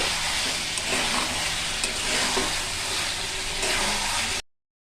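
Chicken kosha sautéing in hot oil in a pan, giving a loud, steady sizzle and frying hiss with light stirring scrapes, then cutting off abruptly.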